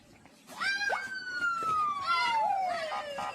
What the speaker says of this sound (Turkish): Polis geliyor polis.